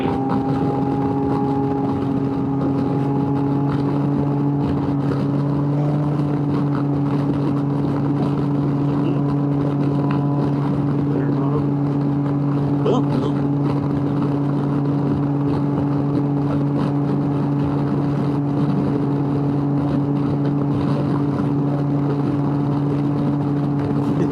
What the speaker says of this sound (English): the exhaust being as loud as it is now, it goes wow, wow, wow